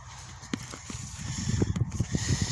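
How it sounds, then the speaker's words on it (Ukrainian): A stallion shifts close by, hooves clopping irregularly on the ground amid soft snorts and breathy noises. "Воно чіткий жеребець."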